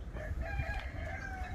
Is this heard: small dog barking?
no